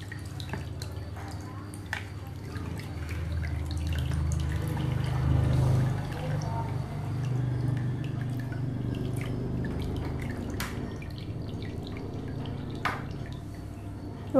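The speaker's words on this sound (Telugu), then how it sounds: "తీసేసి ఎక్సెస్ కలర్ అంతా పిండేసి వాటర్లో వేసేయండి దాన్ని" Excess dye squeezed from tie-dyed cloth runs off in a low, steady watery rush, with scattered sharp drips falling close by.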